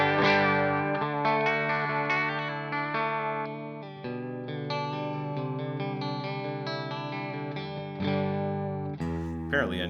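Electric guitar through a chorus pedal set very warbly and run in stereo, single notes and chords wavering in pitch as they sustain, played cleanly at moderate volume with a brief noisy scrape at the end.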